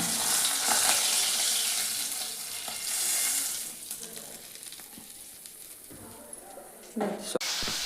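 Sea fish fries in hot oil with a loud, steady sizzle that eases after a few seconds, with occasional utensil clinks and a voice talking over it.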